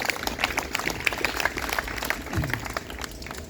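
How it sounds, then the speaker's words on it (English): A crowd at an outdoor March for Life rally gives a round of applause for an organiser, steady scattered clapping throughout with a low thump near the end. "So if you give another round of applause for Sephora,"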